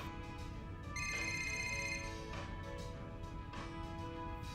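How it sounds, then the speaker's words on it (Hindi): A telephone rings with a bright, tonal electronic ringtone in bursts that repeat, steady and fairly close, with no talking over it. "किसका फोन हो सकता है?"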